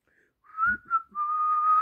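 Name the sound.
whistling a tune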